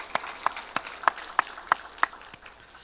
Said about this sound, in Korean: 영광의 하나님께 다시 한번 감사의 박수를 올리겠습니다.